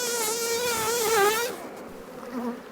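Honey bees buzz close around an open hive, a loud, wavering drone that cuts off abruptly partway through, leaving a quieter background with faint buzzing.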